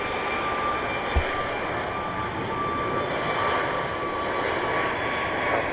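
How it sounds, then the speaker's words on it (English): Boeing 737 MAX 8 jet taking off at Dallas Love Field, a steady, sustained engine roar with a faint high whine throughout, a single sharp click near the start. "It's a MAX 8 off to Las Vegas, Nevada"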